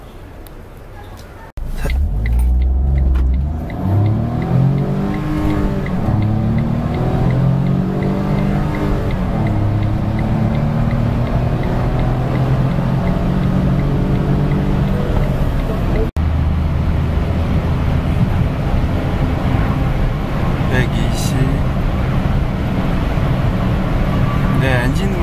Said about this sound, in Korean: 엔진은 아주 커지고 있습니다.